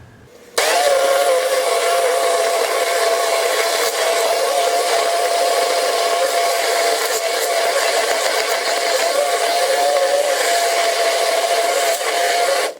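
A blender whirs steadily and loudly, mixing a historic-style onion and ketchup salad dressing; the motor starts abruptly and holds an even, droning tone for about twelve seconds before cutting off, with no talking.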